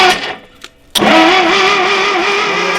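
An old propane-powered farm tractor engine cranks briefly, pauses, then catches with a sharp start and settles into a loud, steady close-up idle.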